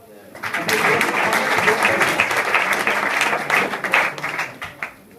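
Students at an intercollegiate school session in Uttar Pradesh break into loud, vigorous clapping for two classmates. The applause swells quickly, holds strong for several seconds, then tapers off.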